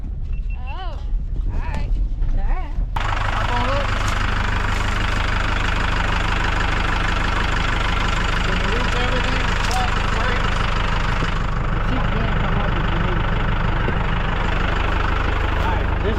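A stick-shift vehicle idles on a mountain homestead, its steady, loud low rumble continuing without a break after a brief, quieter start, with voices faintly present.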